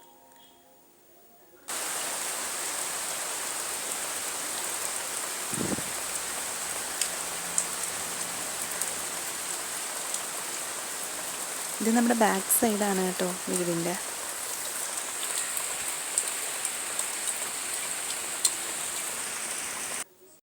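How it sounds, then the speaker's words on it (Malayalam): Heavy rain hisses steadily and loudly, a dense constant wash of drops; a person speaks briefly partway through, and there are a few clicks. "പുറത്ത് നല്ല അതിഗംഭീര മഴയാണ്"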